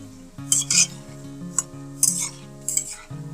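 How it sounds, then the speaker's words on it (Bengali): Piyaju onion fritters are stirred and flipped in a pan of frying oil, utensils scraping and clinking in several sharp bursts over a steady sizzle, with a tonal hum running underneath. "দেখুন আমি এই পর্যায়ে একটু নেড়ে চেড়ে উল্টিয়ে দিচ্ছি"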